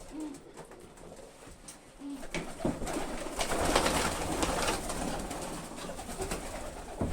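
Budapest and Zamość breed pigeons coo softly and repeatedly nearby, with rustling and fluttering noises rising in the middle of the clip.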